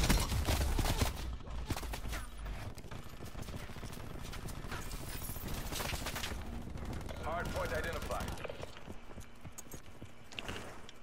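Cordite assault rifle fire in Black Ops 4 with a belt-fed attachment, dense overlapping shots and clatter sustained throughout, mixed with other game noise and voices talking.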